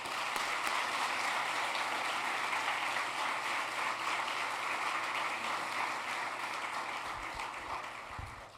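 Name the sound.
applause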